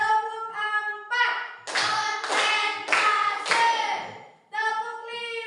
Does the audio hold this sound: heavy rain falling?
no